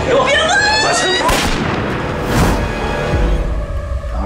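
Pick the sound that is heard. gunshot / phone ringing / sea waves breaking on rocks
gunshot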